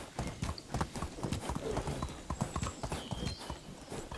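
Horse hooves clop at a brisk, steady rhythm in the Medieval Dynasty video game, a close, continuous clip-clop over soft ambient game sound.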